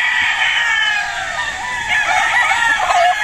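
Stag roosters at a game farm crow in overlapping calls against a dense backdrop of other birds, loud and close.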